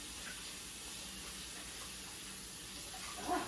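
Hot water runs from a kitchen faucet as a faint, steady hiss, with a brief clink near the end.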